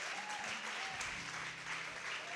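Congregation clapping in a church service, a steady patter of many hands filling the space at moderate volume, with a few faint voices mixed in.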